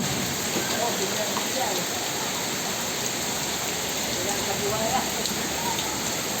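Steady, heavy rain pours down overnight during a storm with street flooding, a constant hiss with no breaks, dense and close throughout.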